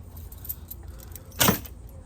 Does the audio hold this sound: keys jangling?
yes